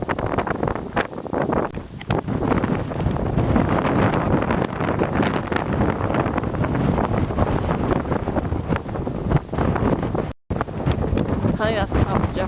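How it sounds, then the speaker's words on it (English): Loud, gusty wind roars steadily across the microphone on exposed Mount Jefferson, rising and falling in strong blasts with a brief dropout near the end, and faint talk half buried in it. "It's getting really windy though."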